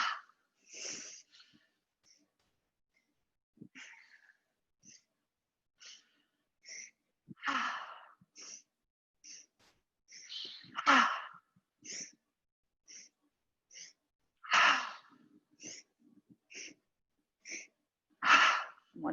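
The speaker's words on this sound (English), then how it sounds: "Inhale, inhale, inhale, ha." Yoga breathing exercise, repeated sets of three sharp nasal inhales followed by a forceful exhale, close and breathy, with quiet gaps between the sets and no talk.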